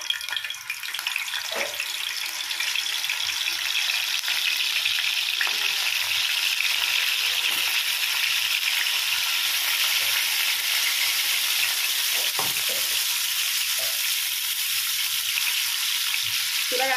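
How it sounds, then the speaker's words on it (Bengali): Potatoes frying in refined oil in a pan over medium heat, a loud, dense and continuous hiss close by, with a few faint knocks from the pan scattered through it. "এবারে এগুলো আমি তেলের মধ্যে ভেজে নিচ্ছি"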